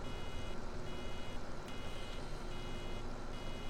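Farm vehicle in Farming Simulator 17 sounding its reversing alarm: a faint repeating electronic beep over a steady, noisy engine drone, with no talking.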